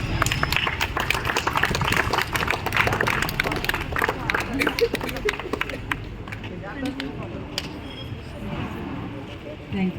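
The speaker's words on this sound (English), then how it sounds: "With a resounding round of applause." A crowd claps in a sustained round of applause at a school investiture ceremony, loud and dense at first and then thinning out, with voices mixed in.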